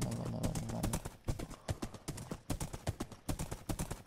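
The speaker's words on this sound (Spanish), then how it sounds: "Y aquí hay burros." Donkey hoofsteps in Minecraft, a fast, steady clip-clop of walking hooves heard up close and alone against a faint background.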